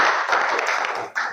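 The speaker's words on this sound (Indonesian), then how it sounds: "Kita beri aplaus untuk anak Asri" Classroom applause for a student, a steady wash of many hands clapping at close range that runs without a break.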